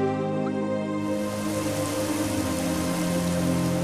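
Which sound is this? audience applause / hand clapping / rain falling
rain falling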